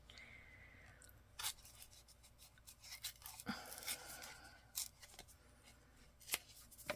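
A piece of card is torn by hand at a craft desk for a haberdashery tag, heard as several short, crisp ripping bursts spread across a quiet background.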